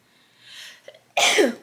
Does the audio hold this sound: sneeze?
yes